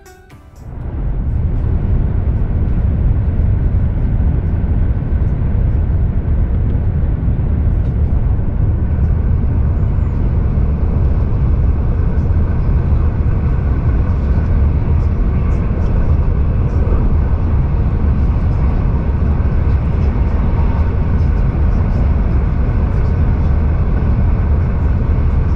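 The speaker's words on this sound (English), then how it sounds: "now it's finally time to listen to the sound of this new train." An ICE 3neo high-speed train runs at speed with a steady, loud rumbling roar and broad whooshing hum that holds constant throughout after a brief quiet start.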